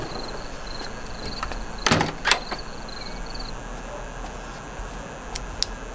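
A door in a thriller film sounds twice in quick succession, with two sharp clattering knocks close together over a steady, low background hiss, and then the scene goes quiet.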